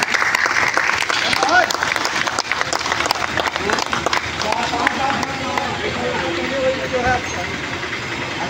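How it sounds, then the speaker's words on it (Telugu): A crowd at a civil defence rescue demonstration bursts into sustained clapping, loud and dense throughout, with voices talking over it. "claps, big claps"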